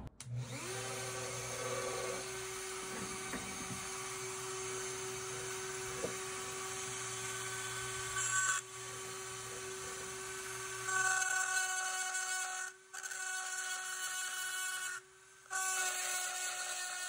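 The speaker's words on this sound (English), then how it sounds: "561 cutting bit just to take this off the block and then round off these corners pretty roughly." A Dremel fitted with a 561 cutting bit spins at 20,000 RPM, cutting an oyster fossil off its block. The high, steady whine runs loud and close throughout, with a few brief dips where the tool eases off.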